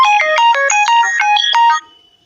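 A phone ringtone plays a loud, bright electronic melody of quick stepping tones for nearly two seconds, then cuts off abruptly into silence.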